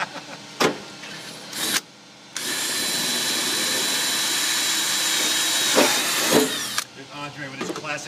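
A power drill bores slowly into metal on a 1971 Mustang Mach 1 project car, a steady high whine that runs for about five seconds and then winds down, with brief bursts before it and voices talking around it.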